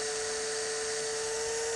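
Small drill bit cutting into a hardened steel pin during maintenance on a Webley revolver cylinder, a steady high-pitched whining drone held evenly throughout, close and alone.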